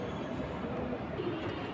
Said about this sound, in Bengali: সুন্দর সুন্দর কবুতর আছে